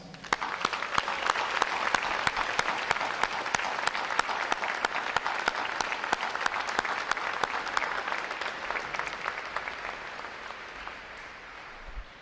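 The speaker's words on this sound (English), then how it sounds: "Please join me in a round of applause for our family, friends, and loved ones." Sustained applause from a graduation ceremony crowd honoring families and loved ones, a dense, even roar of clapping hands lasting over ten seconds before tapering off slightly.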